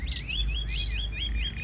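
A hwamei songbird, a newly arrived bird with a high-set tail, sings a steady run of bright repeated whistled phrases, close and clear over a low background hum.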